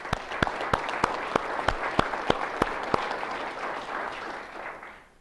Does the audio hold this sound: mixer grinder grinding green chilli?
no